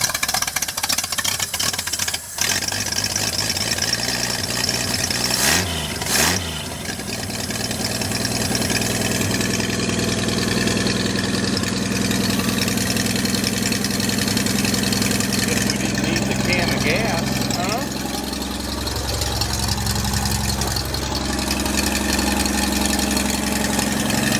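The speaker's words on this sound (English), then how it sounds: "turn the ignition on, see if it starts" A boosted 250 truck engine cranks and starts, then settles into a steady rumbling idle with a few revving swells, loud and close throughout, with no speech over it.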